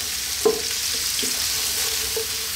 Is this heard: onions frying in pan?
yes